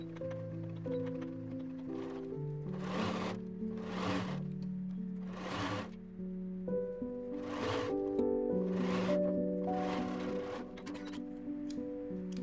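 A sewing machine stitches a wrap skirt seam, its motor whirring in steady bursts with short pauses between runs, close and fairly loud, with no talk over it.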